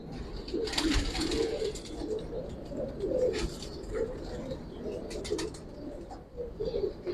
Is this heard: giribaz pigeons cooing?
yes